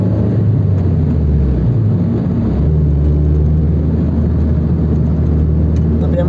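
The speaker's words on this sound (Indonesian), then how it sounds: "dari suara knalpot, suara ya suara sistem pembuangannya" A Toyota FT86's exhaust drones continuously from inside the car as it accelerates, the low engine note rising gradually and holding a steady, throaty hum.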